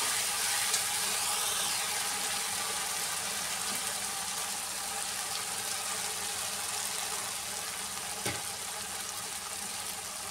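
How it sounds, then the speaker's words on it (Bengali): Water used to rinse ground spices is poured into a hot cooking pan where the spices are being sautéed, producing a steady, close hissing sizzle that runs throughout with a brief sharper splash near the end. "মশলা ধোয়া জলটা দিয়ে দিলাম।"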